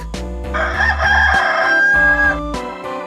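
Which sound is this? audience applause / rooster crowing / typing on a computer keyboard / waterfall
rooster crowing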